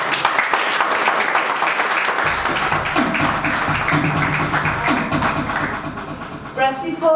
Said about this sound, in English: give a huge round of applause to the organizers of this prestigious event